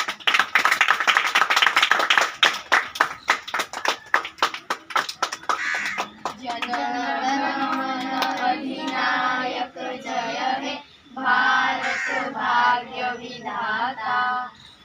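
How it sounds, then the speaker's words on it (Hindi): Crowd clapping at an Independence Day flag hoisting ceremony in India, starting as a burst of sharp claps for about six seconds, then giving way to a group singing the national anthem. "सब लोग पहले ताली बजाएंगे"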